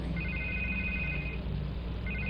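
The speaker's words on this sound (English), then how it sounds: "I can't get the phone to stop ringing." An old-style telephone bell rings in repeated electronic trills in a tense city setting, with a short gap before the ring starts again, set over a steady low background hum.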